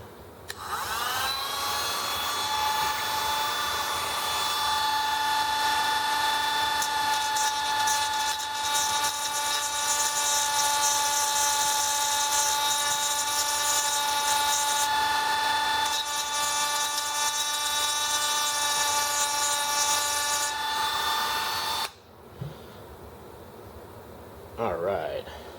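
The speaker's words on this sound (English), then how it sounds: "Never use a Dremel or any power tool without safety glasses." A Dremel rotary tool grinds nubs off the valves of an ETX telescope with a steady, loud, high-pitched whine that holds for about twenty seconds and then cuts off abruptly into quiet.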